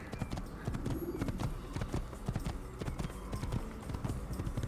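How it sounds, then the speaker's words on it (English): Hooves clip-clop in a fast steady rhythm as a horse gallops in the video game Assassin's Creed, close and continuous with a brief faint whinny. "let's get back on the horse."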